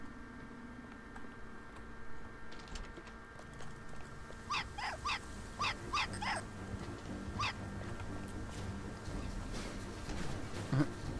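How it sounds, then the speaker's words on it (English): A dog in the Christmas mansion level of the video game Hitman Blood Money barks several times in a quick irregular burst, fairly faint and set back over a quiet game ambience. "The dog is barking"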